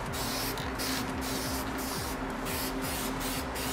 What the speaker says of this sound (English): Spray painted both sides, sand it down